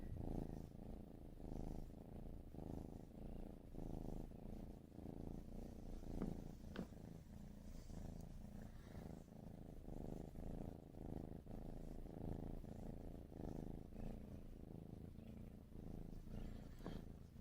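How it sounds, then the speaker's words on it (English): A kitten named Mayhem purrs close up, a steady, strong rhythmic rumble of soft pulses that continues alone for the whole stretch. "It's such a quiet purr, but it's strong."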